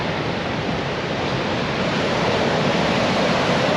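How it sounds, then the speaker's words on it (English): Loud, constant roar of surf washing in, a dense broadband rush that stays steady throughout without pauses. "their waves are incredibly loud at the moment"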